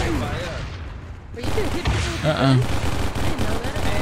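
Sniper rifle gunfire from the VR shooter Contractors, played on a Quest 3, with sharp shots ringing out over background battle noise while a player talks throughout.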